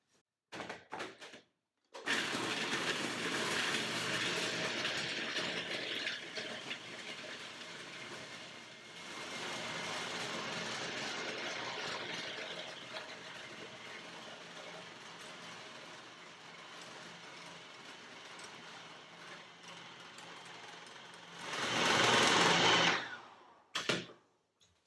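Kitchen blender blitzes cinnamon ice cream, a steady whirring roar running for about twenty seconds with a short pause midway and a louder final burst before it stops.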